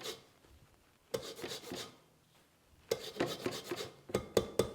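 A lemon is zested into a bowl for lemon delicious pudding, heard as close, quiet bursts of quick rasping strokes separated by short pauses, with no talking.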